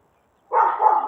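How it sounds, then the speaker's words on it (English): Dogs bark after a half second of silence, a single sustained burst of barking that carries on to the end, fairly loud and close. "my God, these dogs."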